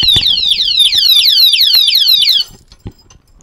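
A motorcycle disc brake lock on a Harley-Davidson Sportster sounds its built-in anti-theft alarm, a loud, rapid repeating electronic siren sweep close to the microphone that cuts off abruptly after about two and a half seconds.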